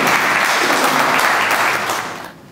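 A mushaira audience bursts into full, dense applause, which holds steady and then thins out toward the end.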